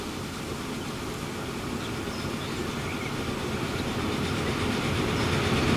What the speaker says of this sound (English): Oh no, that is certainly a train. And it is coming out of the tunnel.